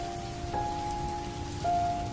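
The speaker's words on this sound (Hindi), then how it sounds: "पर तभी फिर से तेज बारिश शुरू हो गई।" Heavy rain falls steadily in the evening, a dense, even hiss under faint sustained musical tones.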